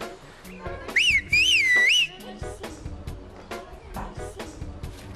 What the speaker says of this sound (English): give instructions to his neighbours at the other end of the street purely by whistling